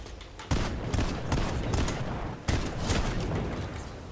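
Bursts of rapid gunfire in a Fortnite match crackle loudly and almost continuously, with sharp volleys striking around the half-second and two-and-a-half-second marks and a dense rattle between them, with no speech over it.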